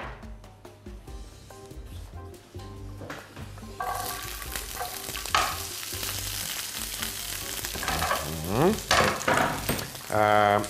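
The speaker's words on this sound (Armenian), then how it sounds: "Կտապակենք այն ձիթայուղով" Food frying in olive oil in a pan, a steady close sizzle that grows louder and busier toward the end with occasional stirring scrapes, no voices.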